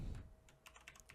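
Quick close keystrokes on a computer keyboard while entering switch configuration commands, a short rapid burst of light clicking taps with no talking.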